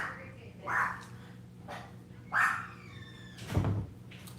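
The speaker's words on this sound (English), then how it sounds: "Sorry, the dog is just barking." A dog barks indoors, about three separate barks spaced a second or more apart, fairly distant and mixed with a low thump.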